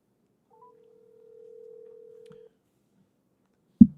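Phone call being placed: a short beep, then a steady ringback tone lasting about two seconds, a few faint clicks, and a sharp thump as the line connects, all quiet and clear against silence.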